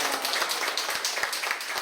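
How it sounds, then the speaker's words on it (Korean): A church congregation claps together in blessing and welcome, a dense run of hand claps filling the room at moderate level. "소아버지가 우리 서로를 위해 다시 한번 축복과 환영의 박수 하겠습니다"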